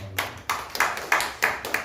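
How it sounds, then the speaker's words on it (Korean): A church congregation claps together at the close of a Sunday worship service, producing a rhythmic run of crisp, fairly close handclaps in a steady beat. "주님께 영광의 박수 올려드립시다"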